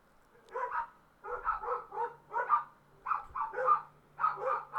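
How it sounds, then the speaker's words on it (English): A neighbour's dog barks repeatedly at a distance, muffled through walls, in steady groups of yips and woofs with short gaps, over a faint low hum. "I was waiting for my neighbor's dog to stop barking"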